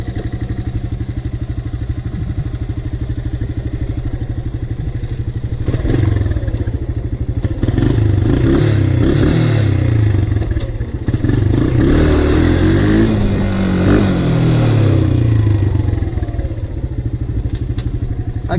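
A Honda TRX 125 ATV engine starts after a few seconds of idle-level rumble, then revs and chugs loudly and close as the machine rides off, with clattering and thumps over the steady motor drone.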